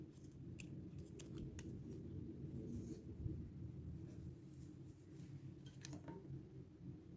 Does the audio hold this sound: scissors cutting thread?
yes